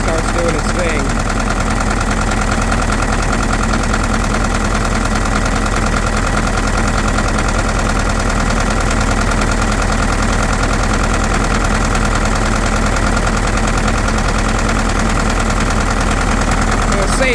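Case 580B backhoe diesel engine idling with heavy blow-by, a steady loud mechanical rumble with some knock running throughout, with voices talking over it.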